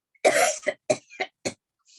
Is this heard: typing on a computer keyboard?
no